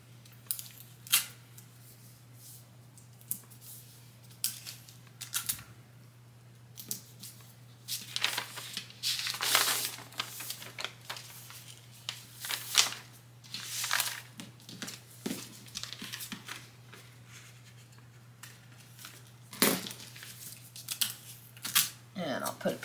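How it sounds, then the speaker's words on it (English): Tape is pulled and pressed down onto biking-short fabric at close range, with crackling and rustling bursts of varying loudness and a steady low hum underneath. "I'm going to tape this down."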